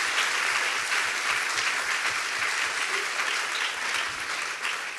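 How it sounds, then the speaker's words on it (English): An audience at a book talk on Marion Barry's life and memoir gives a round of applause for the writer, with sustained, dense clapping that stays loud and even throughout, without speech. "Let's give him a round of applause."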